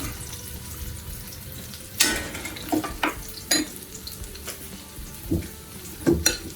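Green tomato fritters frying in a pan give a steady, low sizzle throughout, broken by several sharp clatters of a utensil against the pan, with no talking.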